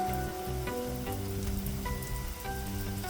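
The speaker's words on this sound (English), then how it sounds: "I just heard it starting to pour down rain." Heavy rain pours steadily on a farm with mini Highland cows and chickens, a dense constant hiss with tonal hum layered over it, continuous and fairly loud throughout.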